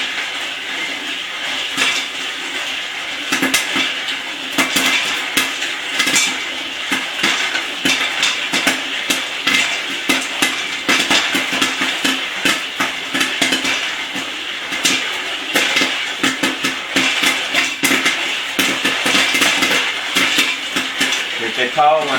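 Popcorn popping inside a Whirley Pop stovetop popcorn maker, with dense rapid pops and rattling against the metal pot over a sizzling hiss, loud and close, with a voice talking faintly at times.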